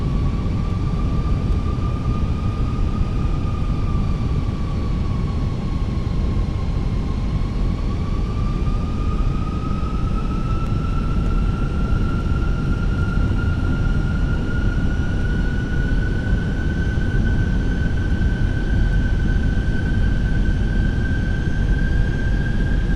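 Steady loud roar of a Fenix A320 airliner on final approach in a flight simulator, broadband engine and wind noise with a slowly rising whine running throughout, no talk.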